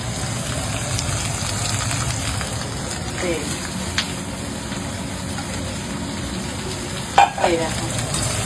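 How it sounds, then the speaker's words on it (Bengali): Diced eggplant fries in oil in a pan, a steady close sizzle with occasional scraping stirs and a sharp clank near the end, over a low background hum. "বেগুনটা এবার দিয়ে একটু ভেজে নেবো ভাজা ভাজা করে নেবো আমি"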